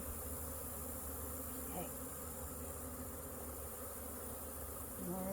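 Honey bees buzz steadily and close during a backyard hive inspection after smoking, a dense continuous hum with a brief spoken word partway through.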